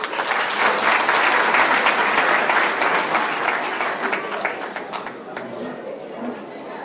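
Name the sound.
applause for the mayor of Nancy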